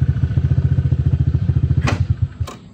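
A motorcycle engine idles close by with a loud, even, rapid chugging pulse. A couple of sharp clicks land near the end as the rhythm slows.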